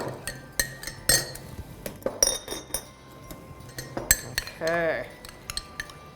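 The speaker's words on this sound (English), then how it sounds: "stir that together until" A spoon clinks and scrapes around a bowl while stirring a mixture until it dissolves, giving sharp irregular metallic taps with a brief swirling sweep, and a voice speaks briefly.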